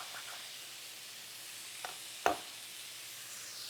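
Steak for fajitas cooks in a pan with a faint, steady sizzle throughout, broken by a couple of short knocks near the middle.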